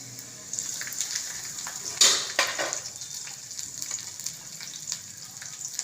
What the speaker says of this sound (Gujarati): હવે લીલા મરચાં નાખશું.